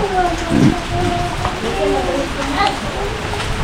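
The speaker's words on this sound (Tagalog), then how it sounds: "Umuulan pa po." Rain falls steadily in the background around a tricycle, a soft continuous patter with a brief louder splash, while people talk over it.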